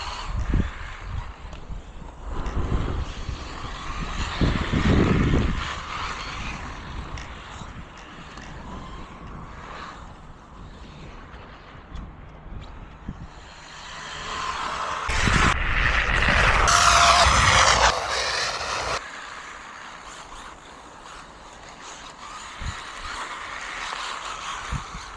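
Cheap MJX and expensive Arrma RC cars race, their electric motors giving a continuous high whine that rises and falls as they pass, swelling loudest midway and then fading.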